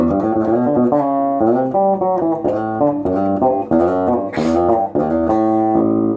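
1980s G&L El Toro electric guitar on the rear pickup playing a bright, twangy run of notes and chords, loud and continuous with no voices.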